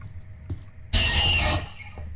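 The fake Rush monster in the Roblox horror game Doors lets out a sudden harsh, noisy shriek that lasts about half a second and then cuts off, over quiet game ambience.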